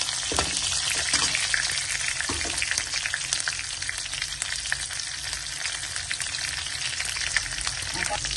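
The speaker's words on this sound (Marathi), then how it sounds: "हिरव्या मिरच्या मस्त फ्राय होऊ द्याव्यात" Green chillies frying in hot oil in a kadhai on low heat, giving a dense, continuous crackling sizzle, close and loud with no break throughout.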